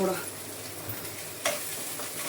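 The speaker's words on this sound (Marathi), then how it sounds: "थोडंसं तेल सुटोपर्यंत परतवते" Refrigerated ground masala paste sautéing in oil in a pan gives a steady, close sizzle, with a brief spatula scrape partway through and no talk.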